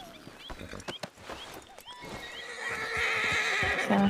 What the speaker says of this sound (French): C'est un cheval bleu comme les dauphins.